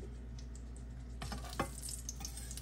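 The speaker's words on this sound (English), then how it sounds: "I'm just going to let them fry" Smashed potatoes frying in oil in a pan over medium-high heat, a steady crackling sizzle that grows busier partway through, with a few louder spits and pops over a low hum.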